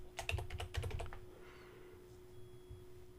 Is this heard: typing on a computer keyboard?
yes